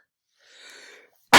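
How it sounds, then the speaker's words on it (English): A single soft, breathy sneeze from one person, close and fairly quiet, followed after a short silence by a sudden loud burst of noise. "When I sneeze, I'm gonna sneeze."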